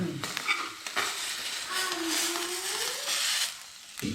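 Steady, loud sizzling of fish frying in a pan, a continuous close crackle with a little stirring or scraping noise near the start.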